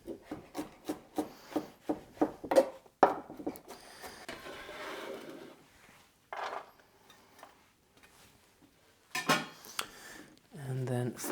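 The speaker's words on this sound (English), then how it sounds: "So I'm just cutting it quite rough now, and I'll just run my knife through" A knife chopping vegetables roughly on a cutting board, with a quick series of close, evenly spaced taps at first, then scattered scrapes and clunks, with a few brief bursts of talk between the cuts.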